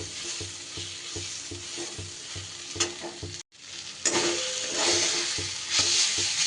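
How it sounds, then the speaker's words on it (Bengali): Radish greens frying in a pan are turned with tongs, giving a steady close sizzle with rhythmic scraping and clacking strokes, a brief pause midway, then louder crackling frying as stirring resumes. "সাঁড়াশি দিয়ে একটু ভালো করে নাড়িয়ে দিয়েছি সুন্দর করে শাক ভাজা"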